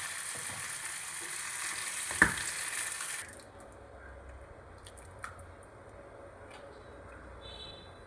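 Fried mustard seed tempering poured into a mashed spinach and dal curry, a loud hiss for about three seconds that cuts off abruptly, followed by faint quiet clinks.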